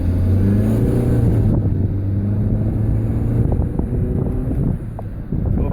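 A 2009 R56 Mini Cooper picks up speed on the road, its engine a low steady drone under loud buffeting wind noise, with a tonal hum that fades as the rush continues.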